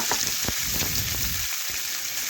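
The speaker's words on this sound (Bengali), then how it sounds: "ভেজে নিয়ে যে সেদ্ধ করা আলু আমি কেটে রেখেছিলাম সেই আলুগুলো দেখুন এখন দিয়ে দিচ্ছি।" Boiled, cut potatoes dropped into hot oil with cumin and chili, giving a dense, loud crackling sizzle with a few clattering knocks that fades slightly near the end, no voices.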